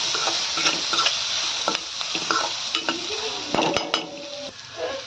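Ground spices (cumin, turmeric, masala, coriander powder and salt) stirred into hot oil in a frying pan, with a steady sizzle under repeated scraping and clinking of a spoon against the pan.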